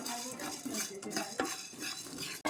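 Coriander seeds dry-roasting in a pan are stirred with a metal spoon, giving close scraping and light rattling of seeds against the pan, with a sharp clink near the end.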